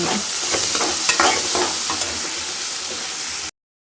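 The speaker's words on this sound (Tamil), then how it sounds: "நான் சிக்கன் கிரேவிக்கு வதக்கிட்டுருக்கேன்" Chicken gravy masala being sautéed in a pan, a loud close sizzle with scraping stirs clustered early that settles into an even hiss before stopping suddenly.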